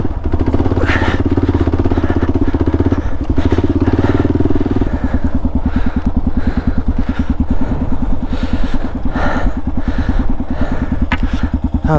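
A Kawasaki KLR650 single-cylinder adventure motorcycle working to pull away on a rocky mountain pass trail, its loud, close engine thumping and pulsing as revs shift, with clattering from the rocks.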